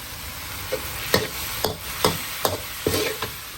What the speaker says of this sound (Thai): ตอนนี้ เป็นช่วงกำลังผัด ลูกชิ้นให้สุกอยู่กับ ข้อหมูให้สุกอยู่นะครับ